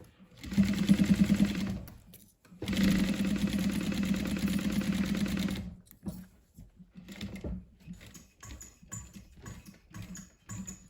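A sewing machine stitches a laptop sleeve in two loud, close bursts of fast rattling needle strokes separated by a short pause, followed by quieter fabric handling and soft clicks.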